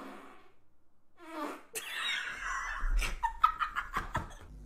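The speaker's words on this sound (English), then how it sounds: "I just did a massive fart" A close, loud fart on a livestream, bursting out as a rapid string of sputtering pops that fade into quieter bursts, with brief vocal sounds just before it.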